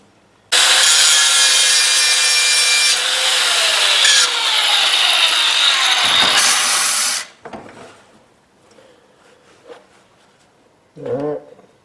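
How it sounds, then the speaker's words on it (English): A power grinder works down metal on a normal bike carrier being converted into a fat tire e-bike carrier, a loud, continuous close-up whine for several seconds that then cuts off, followed by faint handling knocks. "Alright, so I got to grind down a little bit of that."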